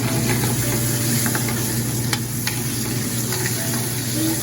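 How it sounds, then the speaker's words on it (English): Shrimp for scampi fra diavolo frying in a pan, a loud, steady crackling sizzle with scattered sharp pops and occasional stirring, no voice over it. "See the shrimp are cooked, are changing color as they cook."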